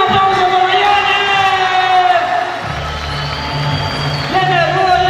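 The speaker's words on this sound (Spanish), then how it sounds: "Un aplauso para Jenner" A crowd at a Señorita San Lucas Sacatepéquez 2019-2020 pageant coronation cheers and applauds in a loud, sustained wash with whoops, and an announcer's amplified voice carries over it.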